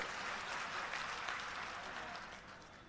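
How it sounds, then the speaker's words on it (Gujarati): Applause from the crowd at a party booth workers' meeting in Vadodara, a dense, continuous clapping that fades slightly toward the end. "એકવાર જોરદાર તાળીઓ થઈ જાય મિત્રો"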